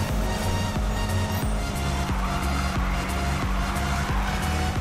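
A car drifts in Need For Speed 2015, tires squealing continuously over a steady engine drone, with repeated rhythmic pulses as the slide is held and chained, loud and close with no talk.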